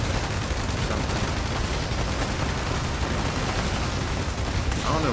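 Dense, continuous gunfire from many players in Fallout 76 fills the space, a loud wall of overlapping shots and blasts with no clear gaps and no voice on top.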